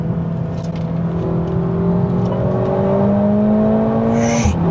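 Mercedes A45 AMG 2026 launching under launch control, a loud, close engine note rising steadily in pitch through the gears, continuous with no break and no voices.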